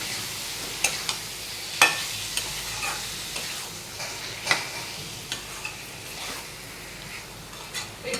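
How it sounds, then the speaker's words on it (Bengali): Salted Bombay duck fish stirred in a frying pan before the lid goes on: a continuous close sizzle broken by scattered spatula taps and scrapes against the pan. "এইগুলোকে আমি নেড়ে চেড়ে ঢাকা দিয়ে দেবো।"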